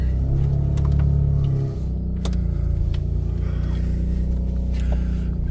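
Rough, loud exhaust note from a straight-piped Toyota Supra with no alternator and dash warning lights on, idling and revving close by with a steady low rumble and a brief surge at the start.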